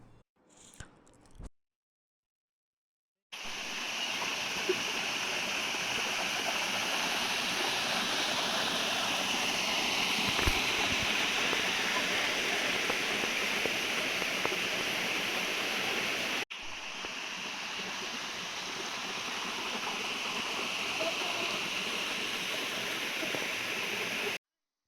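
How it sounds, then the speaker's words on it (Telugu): Steady broadband rush of the waterfall at Japali near Tirupati, continuous and fairly close, with a brief quiet gap at the start and a slight drop in level partway through; no voices. "జలపాతం శబ్దం వినిపిస్తూ ఉంది"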